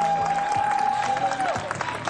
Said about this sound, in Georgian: ერთხელ კიდევ ძალიან დიდი აპლოდისმენტები აი ყველაზე მაგარი ნომრისთვის